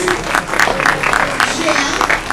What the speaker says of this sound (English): a huge round of applause for all these universities.